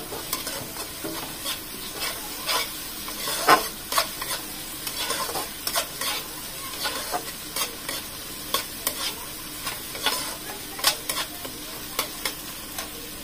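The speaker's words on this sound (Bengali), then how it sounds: "একটু নেড়ে নেব। পর এর মধ্যে আমি আদা বাটাটা দিয়ে দিলাম।" Ginger paste fries with chopped garlic in a pan, a bright, constant sizzle punctuated by frequent, quick spatula scrapes and knocks, close and steady, with no talking.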